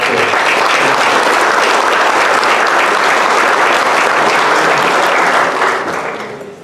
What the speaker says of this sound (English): give yourselves a round of applause, and our financial donors, let's give them a round of applause too